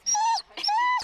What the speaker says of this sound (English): The dogs at Juneau's Sled Dog Discovery and Mushers Camp